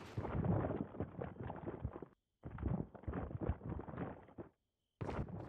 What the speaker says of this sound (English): The sound of the hive.